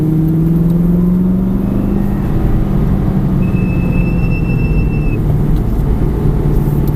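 Aston Martin V8 Vantage on a circuit, the engine droning loudly and steadily with rising pitch as the throttle is reapplied after braking, close and continuous with no voices.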